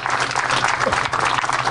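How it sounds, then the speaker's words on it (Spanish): An audience in Venezuela claps in sustained applause, a dense, loud patter of many hands that runs evenly for the whole short stretch. "Un aplauso para nuestras mujeres."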